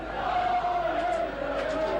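A rugby league crowd at the Douglas Bowl for Wigan v Halifax sends up a sustained roar and murmur, a broad, distant wash of voices with a faint chanting tone running through it.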